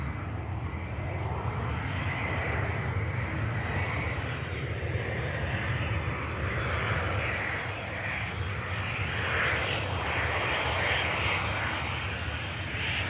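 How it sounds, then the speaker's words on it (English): A landing jet aircraft with bucket thrust reversers deployed, a loud, sustained broadband roar that holds steady throughout without easing off. "Bucket reversers deployed."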